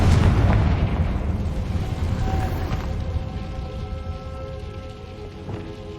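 A Confringo fire spell bursting in Hogwarts Legacy: a heavy booming explosion at the start that rolls off into a long, fading rumble with faint tonal game sounds.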